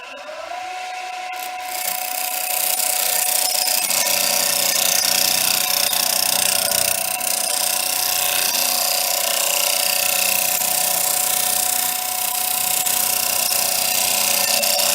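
A wood lathe spins steadily at around 1835 rpm while a scraper, angled on the tool rest, cleans wax off the edge of the turning, giving a continuous close scraping hiss over the machine's hum.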